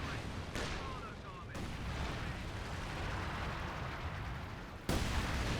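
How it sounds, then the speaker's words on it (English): Feuersturm incendiary artillery rounds from Company of Heroes 2 explode in a continuous roaring, crackling barrage, with a sharper loud burst near the end, heavy low rumble throughout under faint talk. "More Feuersturm incendiary rounds coming down on what used to be the mortar pits"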